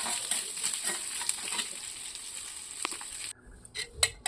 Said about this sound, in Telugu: వెల్లుల్లి ఉల్లిపాయలు వేసుకొని చిన్న మంటపై కొద్దిగా సేపు వేయించుకోవాలి